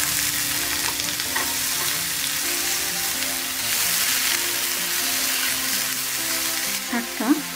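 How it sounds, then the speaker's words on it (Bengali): Napa greens (napa shaak) frying in oil in a pan for a Bangladeshi napa saag bhaji, with steady close sizzling and scraping stir strokes throughout and no talking. "ভালোভাবে এই উপকরণগুলো ভেজে নেওয়ার পর আমি নাপা শাকটা ওটার মধ্যে ঢেলে দিব।"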